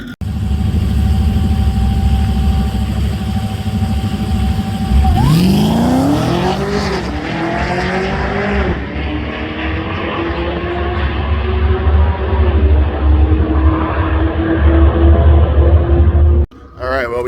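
A drag race car idles on the track, then launches with a loud rising engine roar as it accelerates hard away during a private test session, the pitch climbing and sustained before cutting off abruptly.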